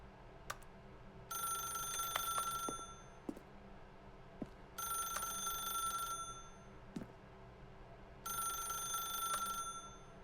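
A telephone ringing in the video game The Stanley Parable: three long bursts of a trilling bell, evenly spaced with quiet gaps between them, fairly soft and with no voices.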